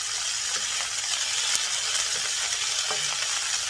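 Thin-sliced beef stir-frying in a hot pan gives a steady, loud, dense sizzle throughout, with faint stirring scrapes and no talking.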